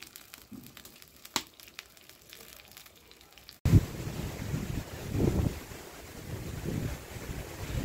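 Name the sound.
wind blowing before rain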